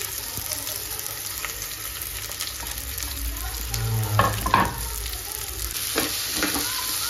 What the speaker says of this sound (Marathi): आता याला आपण मस्त तेलात परतून घेऊया।